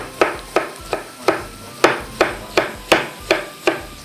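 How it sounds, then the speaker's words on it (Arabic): Knife cutting grilled tomatoes on a board, about a dozen sharp, evenly spaced chops close up in a steady rhythm with no talk. "وبين ما تستوي عنا نقطع البندورات يلي نحنا شويناهم"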